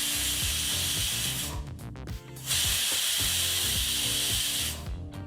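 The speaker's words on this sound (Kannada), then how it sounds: "cooker 2 whistle ಬಂದಾಯಿತು" Pressure cooker whistling as steam releases while cooking Kabuli chana saaru, a loud sustained hiss that cuts out briefly near the middle and then returns at full strength, over background music.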